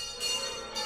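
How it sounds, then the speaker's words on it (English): Church bells ring in a radio drama about a zombie invasion of New York City, a bright, sustained metallic tone that swells twice within a brief moment. "The bells you hear are ringing to warn the people to evacuate the city as the zombies approach."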